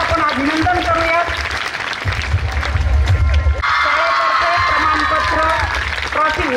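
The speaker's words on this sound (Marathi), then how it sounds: "एकदा जोरदार टाळ्या वाजवून यांचं सर्वांचं आपण अभिनंदन करूयात" Applause from the audience at a school annual social gathering, a steady wash of many hands clapping together, loud and sustained, mixed with a voice talking over a speaker system.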